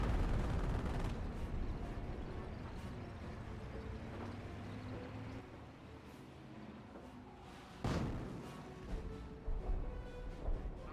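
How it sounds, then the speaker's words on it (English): Creeping artillery barrage in Company of Heroes: a continuous rumbling roar of distant shelling with scattered crackling blasts, one sharp, louder impact cutting through partway, then further thuds, with no talk. "I think I hear a creeping barrage there"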